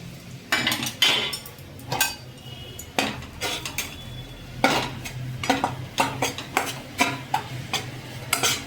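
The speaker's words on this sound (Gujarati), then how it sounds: "હવે લોટને શેકી લેશું" A metal spoon scrapes and clinks against a pan in irregular strokes, with a faint sizzle underneath as flour is stirred while it roasts over low heat.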